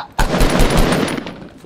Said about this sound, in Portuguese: Tô vendo o cara atirando em você. É a sniper roxa, viu?